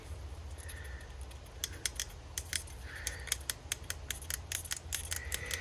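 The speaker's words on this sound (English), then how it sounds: "It's making angry plastic noises at me." Sharp plastic creaks and clicks crackle in irregular bursts over a steady low hum, close by, with a few faint squeaks in between, as plastic parts of a Craftsman 163cc Platinum push mower are taken apart.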